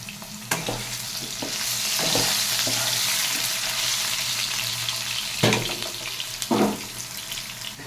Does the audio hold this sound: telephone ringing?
no